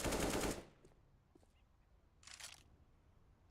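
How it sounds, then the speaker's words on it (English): SMG gunfire in a battle royale video game: a fast, loud burst at the start, then faint scattered shots further off, with a second muffled burst a couple of seconds later. "Dawn tried to spam his SMG"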